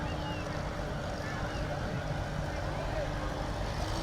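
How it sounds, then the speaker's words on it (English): An old McCormick tractor drives in a Farmers Day parade, a steady low engine rumble running throughout with crowd noise and chatter mixed over it. "The Grinch, of course, driving an old McCormick tractor representing Watkins Farm."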